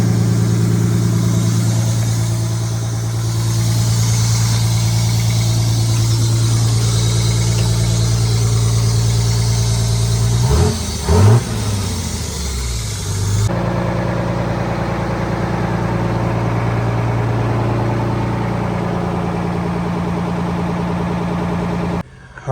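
A Detroit Diesel 6-71 engine idles in a 1980 GMC Brigadier after a cold start, giving a steady, loud, low drone with a brief disturbance midway before the rumble carries on.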